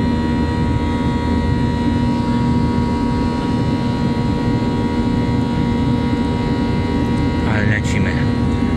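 A passenger airliner's engine roars steadily at high altitude, heard from inside the cabin as a continuous broadband drone with a faint tonal whine, and a short rising-falling chirp near the end.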